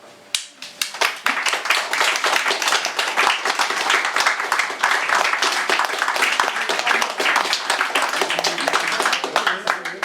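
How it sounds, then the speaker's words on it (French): Audience applause at a twentieth-anniversary drink event, dense sustained clapping from a crowd lasting several seconds, fairly loud and continuous after a brief start. "T'as raison, faut applaudir."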